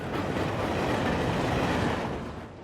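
A cartoon train engine rolls loaded with empty dump wagons along rails toward a quarry, a steady dense rumble with rattling wheels and clatter, loud and close, fading slightly at the end; no talking.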